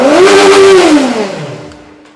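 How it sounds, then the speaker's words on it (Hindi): A QJ Motor SRK 600 RR motorcycle engine revs up sharply close by, holds a loud high note for a moment, then winds down and settles back to a low idle. "थोड़ा सा रेव अप करके देखते हैं"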